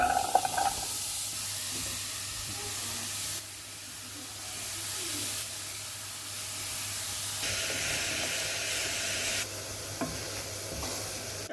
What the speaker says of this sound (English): So basically what I'm going to do is kind of stew these together and cook them